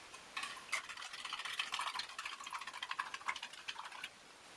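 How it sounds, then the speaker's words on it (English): A Danish army ration drink mix stirred in half a liter of water, rapid ticking spoon clinks against the container in a quick steady rhythm for about four seconds, close and moderate, no voices. "Give it a stir."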